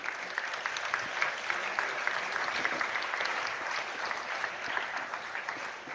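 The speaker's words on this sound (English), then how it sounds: "Let's give a round of applause to all the participants." Audience at a school math quiz event clapping for the participants: steady, even applause from a moderately sized crowd, somewhat distant and sustained throughout.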